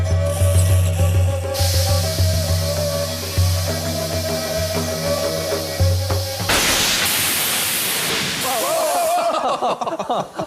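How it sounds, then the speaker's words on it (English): A steady mechanical hum from a steam machine runs for several seconds, then a loud rush of broadband hissing steam bursts out under high pressure and keeps sputtering to the end. "I'll turn the steam machine on."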